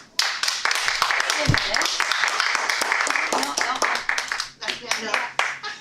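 A meeting audience claps to welcome a speaker at a Toastmasters gathering, dense steady applause lasting several seconds that thins toward the end, with a voice speaking briefly over it.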